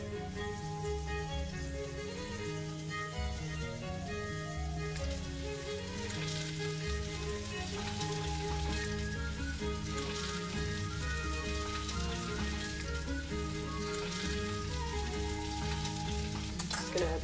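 Steady, dense sizzling of sausages frying in a pot on a camp stove burner, continuous crackle and hiss with faint kitchen clatter over a low background hum.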